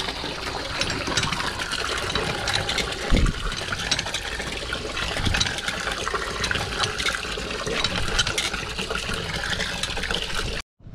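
Sandy, murky water flows in a continuous broadband rush with a few brief splashy thumps and no clear voices.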